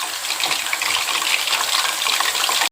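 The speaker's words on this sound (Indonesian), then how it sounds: "Oke, tentunya kita goreng ikan masnya ini matang ya." Carp fry in hot vegetable oil with a dense, continuous sizzle and crackle, close and loud for nearly three seconds before stopping.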